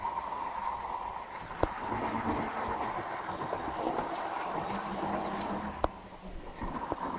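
A Hornby Inter-City 125 model train runs along its track with a steady rolling rumble and a couple of sharp clicks, fairly close and continuous, with no talking.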